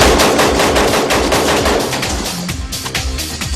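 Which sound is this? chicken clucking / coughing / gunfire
gunfire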